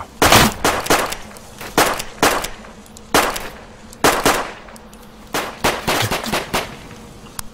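Gunfire in the Dead Side video game: sharp, loud shots crack out in irregular single and paired bursts, separated by short gaps of quiet background.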